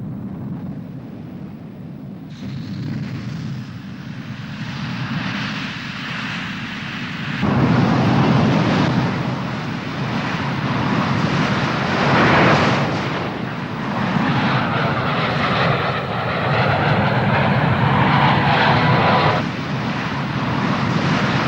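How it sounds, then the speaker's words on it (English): Soviet MiG-21 BIS jet fighter engines roar loudly and continuously, surging in a few abrupt steps and sustaining a broad, harsh blast as the aircraft passes or runs up. "the MiG-21 BIS, many thousands of which have been built for the Soviet frontal air forces"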